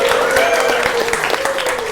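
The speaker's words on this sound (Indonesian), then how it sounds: "tepuk tangan." Audience applause from a presentation on AI prompting strategies, a dense steady patter of clapping hands that fills the short clip at a fairly loud, even level.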